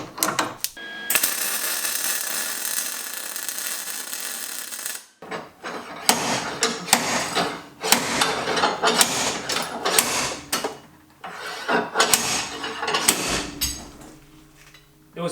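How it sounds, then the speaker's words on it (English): Welding an adapter piece onto a car kit; a long crackling, hissing arc burn runs for several seconds, then choppy bursts of welding and shop clatter follow with short pauses, close and fairly loud. "Dan, I'm welding your piece on there"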